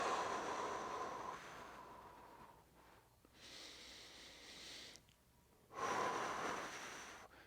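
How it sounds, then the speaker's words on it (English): Steady breathing during a dead bug core exercise, in through the nose and out through the mouth, with long airy inhales and exhales that swell and fade in a slow, even rhythm, close and fairly quiet. "I just focused on nice consistent breathing at all times"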